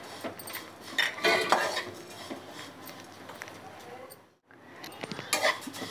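Poha is stirred as it fries in a pan, a busy scrape and clatter of a spoon against the metal over a faint sizzle, with a brief pause before the stirring starts again.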